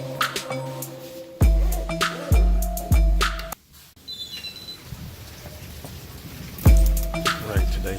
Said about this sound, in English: Fortunately, it's raining.